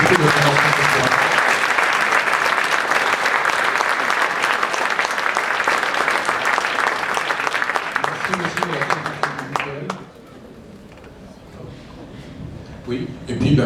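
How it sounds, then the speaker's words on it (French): An audience applauds the speaker Xavier Louis at the close of an evening talk, a full, steady round of clapping for about ten seconds that then drops away abruptly, leaving quiet room tone. "Je crois qu'on peut vraiment applaudir Xavier Louis."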